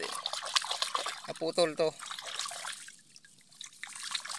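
Water runs and trickles steadily while tree cuttings are rinsed outdoors, a close splashing flow heard under a man's speech.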